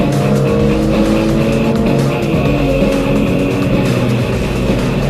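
A heavy front-engined sports car driven fast on a race track, its engine roaring loud and continuous at high revs with no break across the whole stretch.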